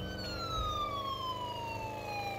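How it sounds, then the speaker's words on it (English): A police car siren in the video game GTA 5 with the LSPDFR mod wails in a slowly falling electronic tone, loud and sustained over a low engine rumble, with no speech. "I also just went ahead and swapped out my siren just today"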